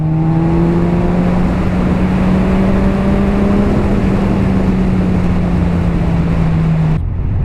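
Steady engine drone of a 2017 Kawasaki Z1000 motorcycle on the move, a continuous close tone that shifts gently in pitch with slight changes in speed, with wind noise and no talking.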